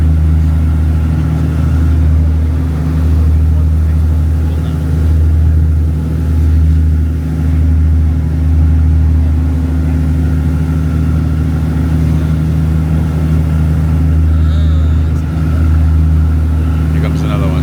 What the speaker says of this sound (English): This is one of the smaller boats, so you can understand why it's easy to get tossed around,